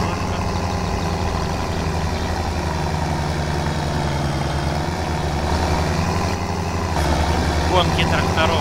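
A tractor engine idles and runs steadily in the driving game BeamNG, a constant low rumble that stays even throughout with a slight rise near the end, while someone speaks over it.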